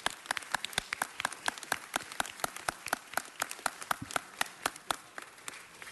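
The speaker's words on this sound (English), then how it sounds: "We got to give Rabbi a round of applause." Applause for Rabbi Lisa Edwards at a Los Angeles City Council LGBT Heritage Month presentation, made of distinct, fairly sparse individual claps in a quick, uneven patter, moderately close and fading slightly toward the end.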